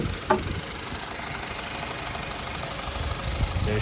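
A high-mileage Honda Civic Si K20 engine idles steadily under an open hood, giving a constant even hum with faint ticking and one brief tap near the start.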